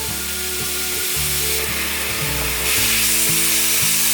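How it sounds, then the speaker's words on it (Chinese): Enoki mushrooms sizzle loudly in a little hot oil in a pan, a constant close hiss that grows denser partway through, with steady background music running underneath. "锅内放入少许油，油热了之后放入金针菇"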